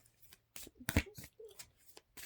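Several short, soft riffling bursts of large tarot cards being shuffled by hand, close and quiet, with pauses between each shuffle.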